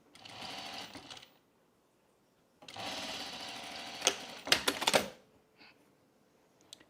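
A sewing machine stitches the curved seams of a Loftus bralette, running in two close, steady bursts with a pause between, followed by a few sharp clicks and handling noises.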